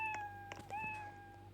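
A cat gives a drawn-out, fairly faint meow with a rising and falling pitch, alone in a quiet room with a low hum.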